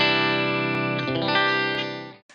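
Sustained electric guitar chord with a clean amp-simulation tone, ringing with steady harmonics and light ambience for about two seconds, a couple of faint pick or string clicks, then cut off abruptly with a brief muted strum at the end.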